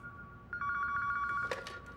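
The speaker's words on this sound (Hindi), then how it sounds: "हमें लैंडलाइन पर एक फोन आ रहा है" A landline telephone rings indoors with a bright, steady electronic trill that starts about half a second in and carries on for the rest of the short clip, close and fairly loud.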